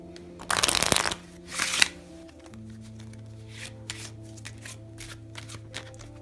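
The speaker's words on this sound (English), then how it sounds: "And just give the cards a cut so we don't know where it is." A deck of playing cards is cut by hand, with two quick, close riffling bursts of card noise followed by quieter shuffling and light handling.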